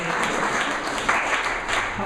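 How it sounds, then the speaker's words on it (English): A crowd applauding steadily at a social media and public relations panel discussion, a dense wash of clapping heard throughout, fairly loud and sustained. "let's give a round of applause for Lori for volunteering tonight"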